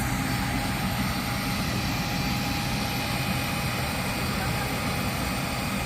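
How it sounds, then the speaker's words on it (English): Jetstar airliner taking off at night from Rarotonga International Airport, a steady loud engine roar of broadband rumble and hiss that holds constant throughout, with people talking nearby. "Jetstar's about to take off."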